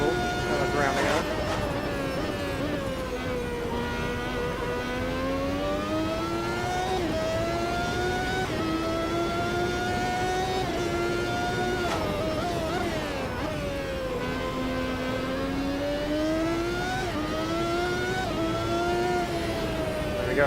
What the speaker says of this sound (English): Beautiful V12 singing away there.